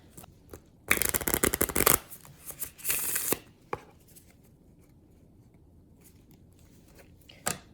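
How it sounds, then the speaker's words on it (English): Playing cards are riffle-shuffled twice in quick, crisp bursts of rapid flutter, close up, followed by a few light taps and quiet handling. "So I'm going to do a quick shuffle with these cards."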